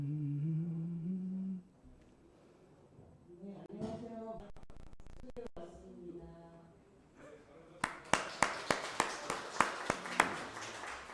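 Applause during a church service: after speech and some brief sounds, a run of sharp, evenly spaced claps rises and keeps going to the end, moderately loud in a reverberant room.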